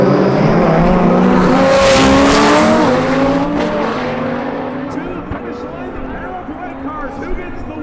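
A Lamborghini Huracan TT runs a high-speed drag race against another car at about 210 mph, a loud close engine roar with rising gear-change tones that fades as the cars pass, with an announcer's voice over it.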